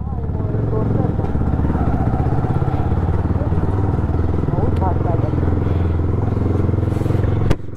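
A motorcycle exhaust drones loudly and continuously up close, a throbbing low engine rumble with a sharp click near the end, while a voice talks over it.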